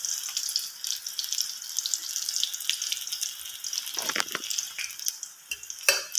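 Bitter gourd pakoras fry in hot oil in a kadai, with a continuous bright sizzle broken by a few louder scraping stirs of a spatula near the end. No one speaks.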